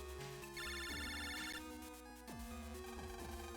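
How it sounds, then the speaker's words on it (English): A phone ringtone from the Mega Man Battle Network 3 video game chimes in a repeating electronic melody, clear and fairly quiet, with no talking over it. "Lan, it's a phone call."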